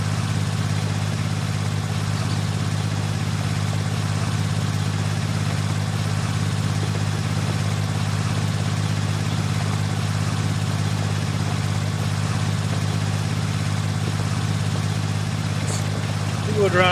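A tractor from a Polish modern-classics mod pack in Farming Simulator 19, two-wheel drive and a little underpowered, runs with a steady, continuous low engine drone that holds level throughout without pauses.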